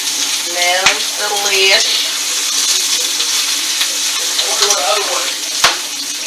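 Chicken pieces frying in a bacon pan for chicken cacciatore give a steady close sizzle and crackle under a few brief spoken comments, with a couple of sharp clinks of a utensil against the pan.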